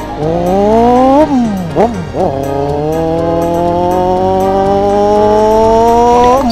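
A Honda GL Max motorcycle engine drones steadily while riding, its pitch climbing with each gear, dropping sharply at a shift, then rising again in a loud, close, continuous buzz.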